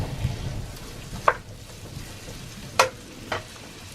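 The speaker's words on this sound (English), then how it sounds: "when you're frying onions, always put some salt in" Red and white onions sizzle steadily in butter and oil in a pan, a soft continuous frying hiss with a few sharp clicks of stirring, heard alone without talk.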